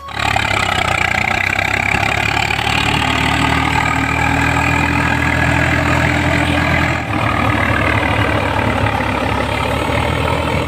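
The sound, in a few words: tractor engine running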